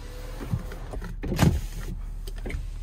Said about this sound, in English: Sunroof.